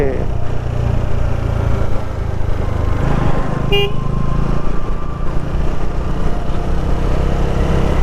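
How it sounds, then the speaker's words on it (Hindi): A motorcycle rides slowly through dense fog on a road, its steady low engine drone continuous and close, with a brief horn toot and faint talk in the background. "कोहरे में धीरे धीरे बाइक चलाते हुए हम"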